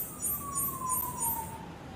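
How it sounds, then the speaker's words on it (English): Wailing electronic siren in the Mane City web game, a steady falling tone around a repeating high warble that pulses about three times a second, loud and alone over a low game ambience. "the siren sound gets to me"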